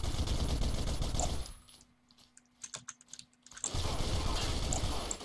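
Rapid gunfire in the video game Blockade 3D, loud sustained automatic bursts at the start and end with a quieter gap of scattered shots between them.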